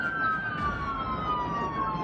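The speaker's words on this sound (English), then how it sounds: "Sirens cutting through the darkness as officers tracked a fleeing vehicle" A police car siren wails, sweeping steadily downward in pitch over low road rumble during a night pursuit, sounding moderately close and continuous.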